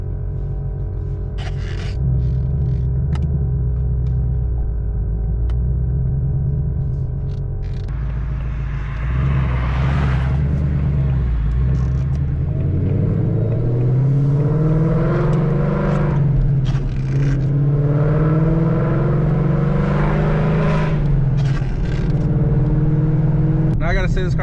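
A 2024-or-later Ford Mustang driving on a wet road in the rain, with steady low engine rumble and road noise heard from inside, rising as it accelerates, while someone talks over it.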